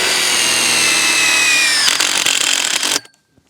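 Power driver running continuously as Tek screws are driven into fence piles of an end assembly, a loud steady whine for about three seconds that cuts off abruptly into near silence.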